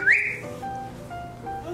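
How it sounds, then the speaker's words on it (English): A toy whistle gives one short, shrill rising blast up close, then fades into quiet room noise. "It's called a whistle."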